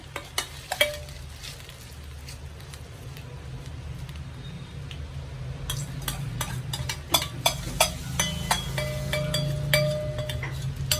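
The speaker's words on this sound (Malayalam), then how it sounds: "കടുക് താളിച്ചത് ഒഴിച്ചു കൊടുക്കാം" Mustard seed tempering poured into thick kalan curry and stirred, a low bubbling simmer with scattered sizzling crackles and spoon clinks against the pan, growing busier partway through, no voices.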